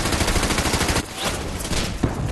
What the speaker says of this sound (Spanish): Tabb sucumbió a los disparos de las ametralladoras alemanas.